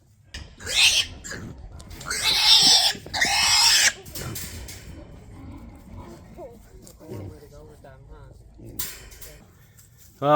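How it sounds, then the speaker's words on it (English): Berkshire pigs in a new pen behind an electric fence, grunting and squealing up close in loud, ragged bursts separated by quieter snuffling, with low talk in the background. "the pigs are in their new home"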